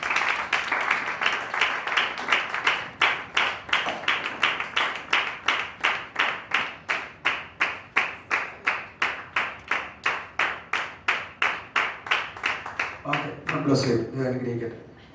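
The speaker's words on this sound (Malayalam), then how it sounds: "നല്ല ക്ലാപ്പ് കൊടുത്താൽ" A graduation ceremony audience applauds in a long, steady, even rhythm of claps that fills the hall, then fades out near the end as a voice begins speaking.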